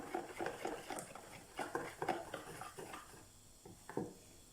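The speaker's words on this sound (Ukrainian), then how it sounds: "перемішуємо." Repeated scraping clinks of a utensil against a bowl of dough mixture with sour cream in an irregular stirring rhythm, close and moderately loud, with no talking.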